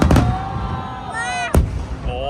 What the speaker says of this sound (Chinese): 弄完之后这个才正式烟火